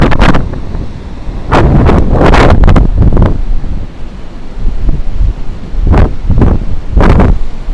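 Strong wind on a beach at Nha Trang–Cam Ranh, Vietnam, in February, buffeting the microphone in loud, repeated gusts with short lulls between them and a faint wash of sea beneath.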